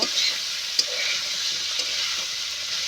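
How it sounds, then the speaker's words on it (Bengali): Chickpea ghugni frying in a pan, a steady close hiss of sizzling with a faint clink or two, no voices. "কষানো হয়ে গেছে এবার আমি জল দিয়ে দেব"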